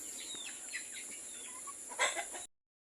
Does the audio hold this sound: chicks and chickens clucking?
yes